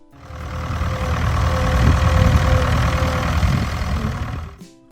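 Vintage American farm tractor engine running, a steady mechanical drone with knocking low-end chug that swells up, holds loud and even, then fades and cuts off abruptly at the end.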